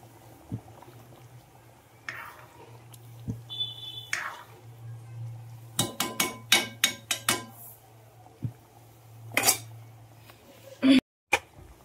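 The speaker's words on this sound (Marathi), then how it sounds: "तर आता तडका देऊन घेते" Tempering for a chole curry goes into the pan, bringing a low steady sizzle with scattered metallic clinks and a burst of sharp spoon taps on cookware, all quiet and close.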